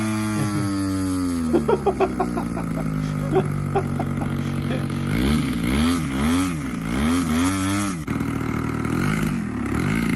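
A model airplane engine runs at full throttle. Its high, buzzing whine climbs and dips in pitch in repeated surges as it revs, close and loud, with voices talking over it.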